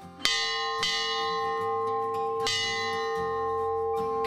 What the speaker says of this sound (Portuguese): Seu Maurício, quando que esse sino era tocado?